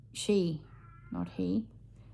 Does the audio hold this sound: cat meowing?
yes